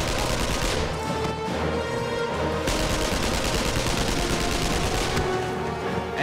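Uzi submachine gun fire in a battle setting, dense rapid bursts of shots continuing without pause, loud and close, with no voices.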